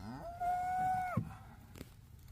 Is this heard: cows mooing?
yes